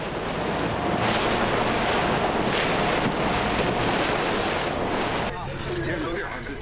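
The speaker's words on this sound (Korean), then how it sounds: "배는 요동치고 눈앞으로 파도가 덮쳐오는 험난한 뱃길." Rough sea waves crash and wash over a boat on a stormy winter crossing to Ulleungdo island, with constant loud surges of water and heavy wind buffeting the microphone throughout.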